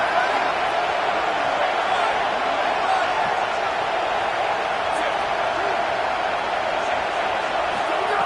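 Steady roar of a stadium crowd in a college football video game, a broad continuous wash of cheering that holds evenly throughout with no breaks.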